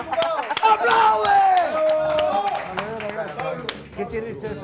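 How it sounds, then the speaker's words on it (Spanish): Sharp rhythmic hand claps in a comedy television scene, a run of quick claps over loud excited shouting by a speaker that nearly covers them. "¡Aplaude, Oscar!"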